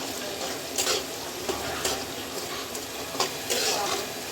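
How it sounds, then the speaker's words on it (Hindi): Semolina roasting in hot ghee in a pan for suji halwa, a steady soft sizzle with occasional stirring scrapes recurring about every second, close and alone without talk. "अब हम इसमें सूजी डाल के भूनेंगे"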